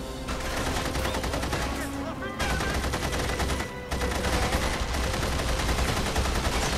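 Rifle fire in the video game The Saboteur, dense bursts of rapid shots rattling almost continuously with two brief gaps, loud and close amid game noise.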